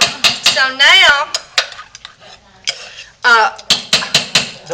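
Metal spoon stirring goat's milk soap in a crock pot, sharp ringing clinks and scrapes against the pot in irregular bursts, close and clear, with short quiet gaps between them.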